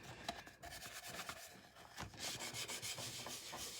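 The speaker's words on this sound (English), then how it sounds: "take some sandpaper and rough these up so they don't look quite as new" Sandpaper rubbing over Dixie Belle paint transfers to rough them up, a quiet, continuous scratchy scraping with uneven strokes, close and without talk.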